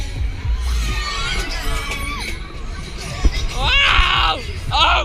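Riders on the Wilmott's Air Raid fairground ride at a festival in Edinburgh Meadows shout and cheer together over a steady rumble, with rising screams bursting out near the end; a crowd murmurs underneath.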